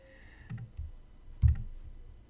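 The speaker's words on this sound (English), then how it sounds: "I'm going to get rid of all of the other horses just by clicking on them." Two quick double clicks of a computer mouse, close and dry, separated by a short pause in a quiet room.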